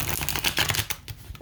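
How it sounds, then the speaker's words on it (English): Tarot cards riffle-shuffled up close, a fast ripple of flicking card edges lasting over a second, then a softer settling patter as the deck is squared. "we're going to shuffle riffle. They call this a riffle shuffle."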